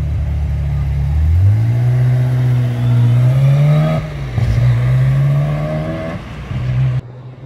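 A black Ferrari 355 GTS engine roars loudly nearby, its pitch rising and dipping as it revs and accelerates through the gears.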